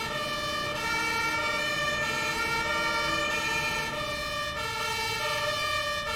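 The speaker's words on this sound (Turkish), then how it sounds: "Lan sirenleri mi kapatak ha?" Emergency vehicle siren wailing steadily and loudly throughout, with engine rumble beneath, as a Turkish 112 emergency crew heads toward a large apartment fire.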